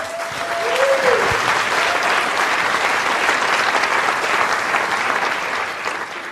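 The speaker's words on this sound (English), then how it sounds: "give her a big round of applause" Steady applause from an audience fills the room, sustained clapping that holds level for several seconds before easing slightly.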